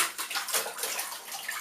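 Laundry being washed by hand in a bathtub full of water, with continuous close sloshing and swishing throughout a short stretch, no voices.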